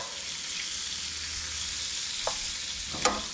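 Blackened shellcracker fish frying in a pan after a fall fishing catch, a steady close sizzle with a couple of brief scrapes and clinks near the end.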